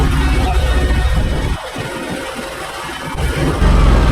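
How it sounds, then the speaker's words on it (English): Lawn mower engine running steadily outdoors at a tree and stump job, a loud, continuous droning rumble that dips slightly midway, then swells back up, with no voices. "As long as I hear that mower running, we're good."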